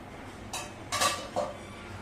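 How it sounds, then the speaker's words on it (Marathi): A metal lid comes off a cooking pot of simmering vegetable bhaji, giving a few brief clinks and scrapes spread over about a second against a quiet kitchen background. "झाकण उघडून बघूया"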